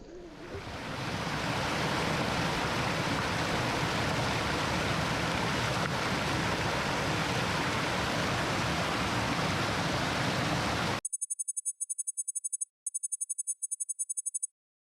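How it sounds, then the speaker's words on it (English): Steady roaring rush of falling water from a waterfall in a gorge, broad and constant for most of the clip before cutting off into near silence with faint high electronic beeps. "I can see the waterfall up ahead."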